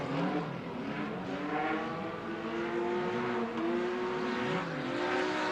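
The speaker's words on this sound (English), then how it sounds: "you can hear the sound of that number 313, the BMW, desperately fighting to get that" The BMW stockcar number 313 races at the Border Oval Circuit in East London, a continuous engine drone whose pitch rises and falls as it works through the gears, heard at moderate distance without talk.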